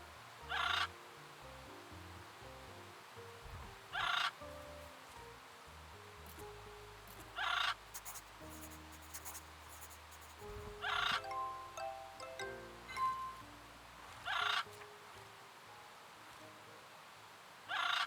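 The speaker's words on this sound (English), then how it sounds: "Think of a way to get past that noisy gaga bird." The noisy gaga bird in the video game Little Witch in the Woods gives repeated loud calls at intervals of about three to four seconds, over soft game music and ambient tones.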